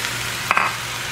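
Beans tipped into a hot pan give a short burst of sizzling over a steady frying hiss, with no talking.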